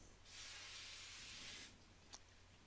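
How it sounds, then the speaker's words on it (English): A steady silicone aerosol spray hisses for about a second and a half, close and loud, followed by a brief faint click. "the silicone spray will help it interact with the glass well."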